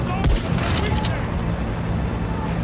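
Rapid gunfire rattles in a shooter game, loud and close, a dense burst of shots with booming low end blending into sustained noise, while voices talk over it.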